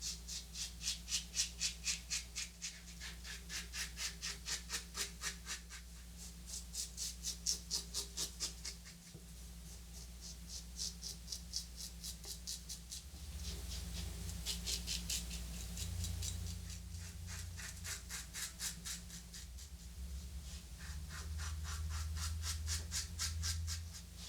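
Close, raspy scraping of an Aylsworth Altare razor dragging through stubble in repeated short strokes on a third pass, steady rhythm with brief pauses, no talking.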